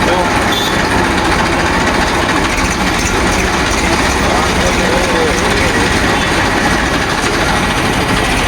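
Tractors loaded with chickpeas at the Harij market, engines running with a loud, steady rumble close by, mixed with crowd noise and people talking.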